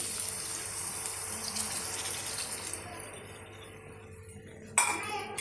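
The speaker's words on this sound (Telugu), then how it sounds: "ఒక హాఫ్ గ్లాస్ వాటర్ వేసుకున్నాం" Half a glass of water pours into a pan of simmering yellow cucumber curry, a steady splashing stream that thins out, then a sharp clink of the glass near the end.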